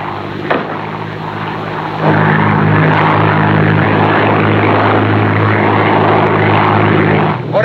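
A propeller airplane drones loudly and steadily in a 1947 film scene, its engine hum rising a notch partway through and holding with no talk over it.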